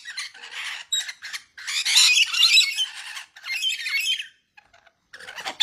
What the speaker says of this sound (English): Yellow crested cockatoo. Rainbow lorikeet.